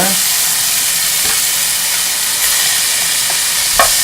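Pork belly stir-fries for yaki soba with a loud, steady, close sizzle and hiss that runs without a break, and a few faint scrapes of a utensil stirring in the pan.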